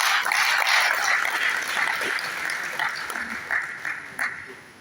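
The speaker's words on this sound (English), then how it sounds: "a big round of applause for Azuh Amatus for doing this" An audience at a book launch applauds the author with a round of clapping. It is loud at first and fades gradually, with a few scattered claps near the end.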